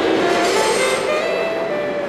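Subway train rumbling through a New York station near 42nd Street, a steady loud roar with faint wheel squeal and rail noise and no talking.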